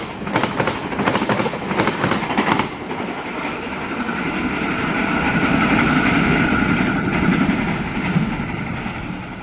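A long passenger train runs past Klari station with rhythmic clickety-clack of wheels over rail joints at first, then a sustained loud rumbling roar of wagons rolling by close.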